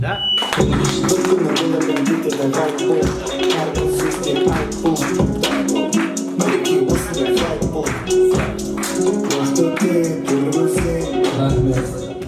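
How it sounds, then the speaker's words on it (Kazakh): Party guests clapping at a celebration, a dense run of sharp hand claps that carries on steadily throughout, with background music and murmuring voices underneath. "Енді қошемет ұрып жатыр."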